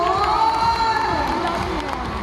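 Live audience at a comedy show in Manila cheers and shouts in a loud, continuous crowd roar, with a voice talking over the noise.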